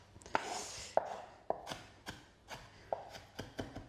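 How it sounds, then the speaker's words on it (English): A knife chops an onion on a cutting board, about eight crisp, separate strikes at an uneven, unhurried pace, close and fairly quiet with no voices. "I'm finally chopping this"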